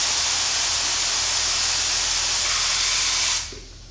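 A steady, loud hiss of a paint spray gun blasting out lacquer thinner to clean it, for about three and a half seconds, then cutting off abruptly to quiet.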